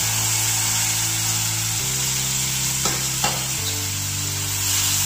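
Chopped tomatoes fry in a pan for dhaba-style dal tadka, a steady close sizzle with a couple of brief stirring scrapes partway through, under a faint background hum.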